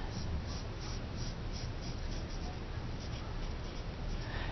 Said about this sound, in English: and I'll put it in pencil